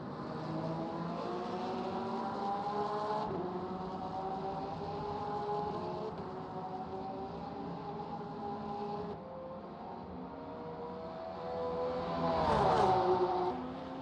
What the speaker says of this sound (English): Two flat 6 engines.